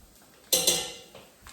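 A pot of spicy black beans seasoned with chipotle is stirred once, giving a brief burst of scraping and clinking against the metal, close and fairly loud, then fading to quiet with a faint knock at the end.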